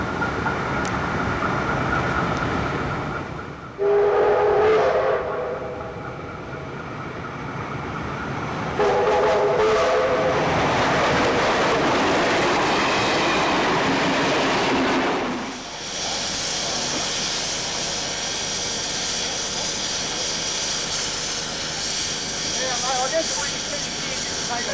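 The Cockatoo tourist train rumbles along the rails in Australia with hissing and a couple of horn blasts, the mechanical noise steady and fairly close throughout.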